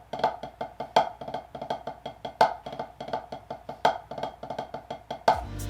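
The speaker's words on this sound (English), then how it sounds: "we're going to be learning how to play the rudiment called a drag paradiddle number 2." A drag paradiddle number 2 rudiment played on a snare drum: quick, close stick strokes in a steady repeating pattern, with accented hits and soft grace-note drags recurring throughout.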